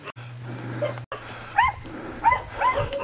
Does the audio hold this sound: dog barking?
yes